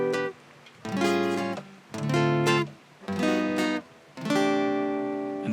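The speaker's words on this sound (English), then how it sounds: "kind of a mixture of jazz chords and slack key" A slack key guitar plays short phrases that mix jazz chords with slack key vamp riffs, four strummed bursts separated by brief pauses, clear and close.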